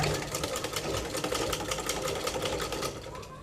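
A sewing machine runs steadily, stitching a zipper onto a garment with a fast, even mechanical rattle. It is close and continuous with no pauses.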